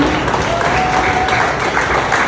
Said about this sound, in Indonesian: Tepuk tangan buat teman-teman semuanya.